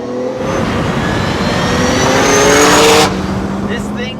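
A modified 1995 Nissan Skyline GTR V-Spec accelerates hard, its engine note rising loud and close for about three seconds before the revs drop off abruptly.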